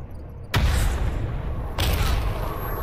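Explosion in the video game Stalker Anomaly, a sudden loud blast after a quiet moment, with a second burst of rumbling and crackling shortly after, heavy and close.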